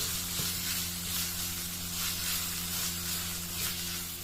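Ginger garlic paste sizzles steadily in a hot pan, an even frying hiss heard close up with faint stirring and no talk.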